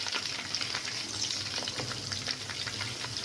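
Chicken kabab frying in oil over a high flame, a steady close crackling sizzle with dense popping spatter throughout and no talking.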